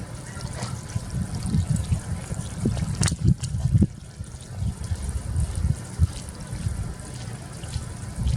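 Water runs steadily from a hose with a splashing, trickling flow, close by and continuous, with a few brief clatters partway through.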